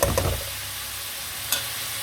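Chicken pieces sizzling in a pan, stirred with a spoon as spices go in, with a few quick scraping stirs at the start and another brief clatter later over a steady low frying hiss.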